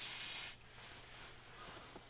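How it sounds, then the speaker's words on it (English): An aerosol can of spray grease gives one short, steady hiss lasting about half a second while coating the outside of a new rear suspension bush for a Renault Laguna Series 2 estate, then stops and leaves quiet workshop room tone. "I used a bit of spray grease just on the outside of the new bush"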